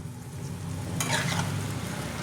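Chicken coated in ground spices sautés in a pan for biryani, a soft continuous sizzle with a brief louder burst of hissing as it is stirred, close and without talk.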